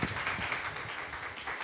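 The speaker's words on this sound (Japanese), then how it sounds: "慎吾先生拍手でお迎えしましょう" Congregation applause in a Shinjuku church service welcoming the pastor, a steady wash of many hands clapping together, fairly distant and even throughout.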